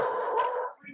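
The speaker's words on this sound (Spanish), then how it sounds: "la perra se pone nerviosa cuando la gente pasa enfrente" A nervous female dog gives a short, close growl that breaks into a yip, about one second long, reacting to people passing by.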